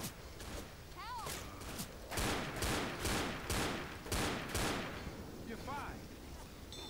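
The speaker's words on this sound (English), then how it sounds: "I'm shooting this guy." Left 4 Dead gunfire rattles off in loud clusters of shots, some spaced and some rapid, with voices talking over the shooting throughout.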